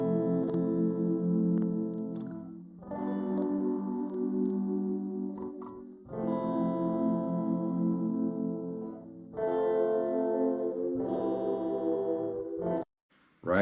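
Guitar chords layered with a soft synth pad in an R&B studio production, sustained harmonic blocks changing every few seconds with brief gaps between sections, steady and fairly loud with no talk.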